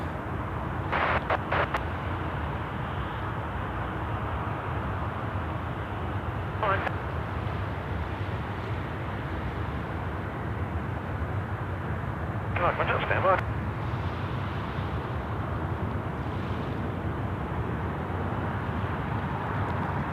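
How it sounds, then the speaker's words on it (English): A Finnair airliner on approach to land at Sydney Airport, a steady, fairly distant engine roar that continues throughout under talking voices. "Another Finnair coming in."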